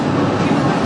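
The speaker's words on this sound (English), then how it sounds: "And this is one of the other trains." A Chicago L elevated train rumbles loudly and continuously nearby, a dense roar of rolling wheels and car noise with faint clacking, briefly and without speech.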